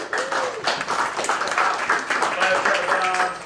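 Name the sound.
audience applause for speaker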